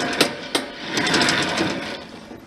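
A Kohler K301 engine runs on a Case 222 tractor with a loose chain dragging, making a gritty, busy mechanical rattle with a couple of sharp clacks near the start.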